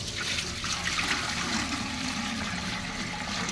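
Water pours and gushes steadily into a container, a continuous splashing rush with no voices.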